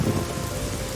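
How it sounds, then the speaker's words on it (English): Steady rain falls in the Evoland 2 video game, a dense, even hiss of drops with a low rumbling undertone, loud and continuous with no talk. "Funny how it only rains there."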